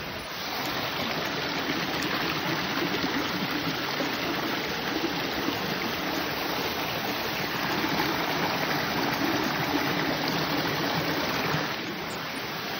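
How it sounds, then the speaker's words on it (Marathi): Waterfall near Dhareshwar temple, a steady broadband rush of falling water, continuous and fairly close, with no voices. "आणि असा धबधबा आहे"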